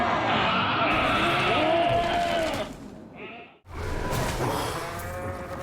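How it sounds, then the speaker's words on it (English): Goats bleat in the Diablo Immortal video game, rough livestock cries rising over dense battle noise and a game soundtrack, with a short pause before the clamor resumes. "Make these goats bleat their last."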